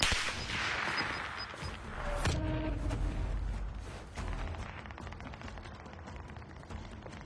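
Heavy gunfire in a video game match: dense, overlapping bursts of shots with one sharp loud crack near the middle, then continuing rattling fire that fades slightly toward the end, with no speech.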